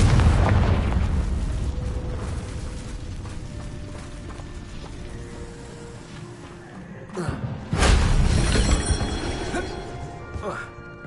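Confringo fire spell from Hogwarts Legacy on PS5 bursting into an explosion, a loud boom around the middle and then a rumbling, crackling tail, amid other game effects and ambience.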